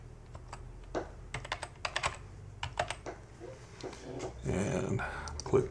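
Fast bursts of key clacks from typing on a computer keyboard, ending in firmer presses as enter is hit, close and crisp, with a dog growling and whimpering softly in the background.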